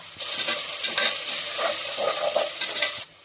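Ginger garlic paste frying in a pan for pulao, a steady close sizzle with stirring scrapes running throughout, no voices.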